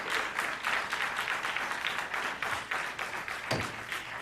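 An audience at a Jeffco Schools board meeting during public comment breaks into applause, a dense patter of many hands clapping at close range that carries on for several seconds, with no speech over it.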